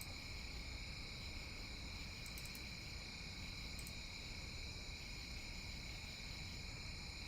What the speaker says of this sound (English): Those crickets are so loud.